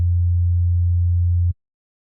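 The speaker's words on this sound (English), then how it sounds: "We're gonna start with a blank Operator preset that currently sounds like this. It's just playing a sine wave." A blank Ableton Operator synth preset plays a pure, low sine-wave note, one steady sustained tone held for about a second and a half before stopping abruptly, alone with nothing else around it.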